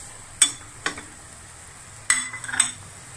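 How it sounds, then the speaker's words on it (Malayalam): Spoon stirring ground spices and roasted garam masala in a pan over low heat for a spicy chicken curry, giving a few separate sharp scrapes and clinks against the pan, with quiet gaps between them. "ചെറിയ തീയിലിട്ടിട്ട് അടികരിയാണ്ട് ഇളക്കി കൊടുക്കണം"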